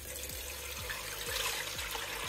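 600 millilitres of warm water poured into the base of a Speedy air fryer fitted with a grill plate, a faint steady trickle and splash of liquid heard close up with no talking.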